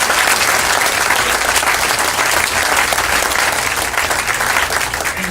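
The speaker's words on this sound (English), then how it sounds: "Big round of applause for them as well." Applause from the audience at a professional bowling tournament final at Parkside Lanes, a loud, dense and steady clapping that fills the whole span without speech.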